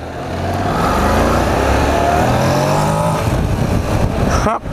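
A Honda Pan European 1100cc motorcycle engine runs loud and close, holding a dense, steady roar that swells slightly and dips briefly near the end.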